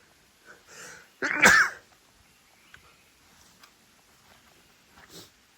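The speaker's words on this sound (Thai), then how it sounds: "แรงจริงนะทุกคนถึงขั้นต้องจามเนี่ย" A single loud, close sneeze set off by the sharp smell of strong Thai food, a burst standing alone against near silence.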